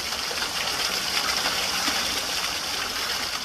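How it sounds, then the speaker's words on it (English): A quarry waterfall gives a steady, dense rush of falling water, continuous and fairly close throughout with no voices over it. "This is an absolutely beautiful waterfall."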